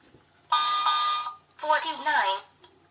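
A bedside alarm clock gives two bursts of steady electronic beeping while its alarm time is set to 12:49 a.m., each burst lasting about a second, with a spoken voice over the second.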